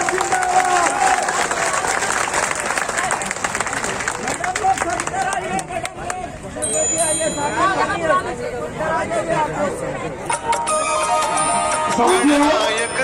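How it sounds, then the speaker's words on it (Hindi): A large outdoor crowd at a pension-demand rally by school employees breaks into sustained applause, dense and steady clapping filling the air with crowd noise and a voice carrying over it. "सहमत है तो ताली बजाइए एक बार।"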